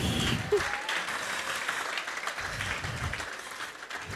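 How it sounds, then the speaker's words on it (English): Applause from an audience at a virtual assistant empowerment summit keynote, a broad crowd of clapping that starts strong and gradually thins and softens toward the end. "a special round of applause to all the men in the room"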